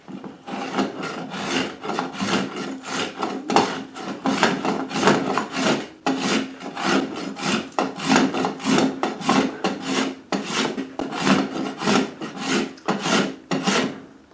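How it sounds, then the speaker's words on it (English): A spokeshave shapes a curly wood archtop guitar neck in a steady run of rasping strokes, roughly two per second, close and fairly loud with no speech. "I've just taken a couple of strokes so far with the spokeshave"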